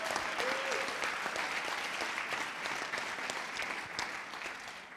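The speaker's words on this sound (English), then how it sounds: "can we have a much bigger round of applause for our 5 startups" Audience at a Dragons' Den style aviation innovation pitch event applauding the startups, continuous even clapping close by, with a brief voice near the start.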